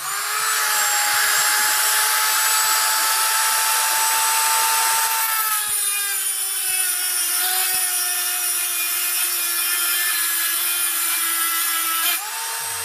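A Dremel Moto-Tool rotary tool, drawing 1.15 amps and spinning at about 35,000 RPM, cuts steadily. It makes a loud, continuous high-pitched whine that dips slightly in pitch under load midway, then stops abruptly near the end.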